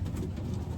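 Racing pigeons cooing softly close by, a brief low murmuring over steady background noise.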